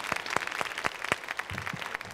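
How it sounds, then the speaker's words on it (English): Audience applause at a school awards ceremony after a singer's performance, a room of people clapping with distinct individual claps close by, no voices. "Let's give him a round of applause"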